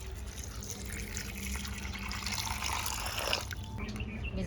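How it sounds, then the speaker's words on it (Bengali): Water poured over beans in a pot to soak them, a steady close splashing flow with a slightly louder surge near the end and no voices. "এবারে জল দিয়ে ভিজাই রাখি।"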